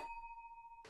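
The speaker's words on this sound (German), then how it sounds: "ich werde mal klingeln" Doorbell of an old-building apartment in Kreuzberg, Berlin, giving a single sustained electronic ding held for nearly a second, close and clear with a faint room hum beneath and no voices.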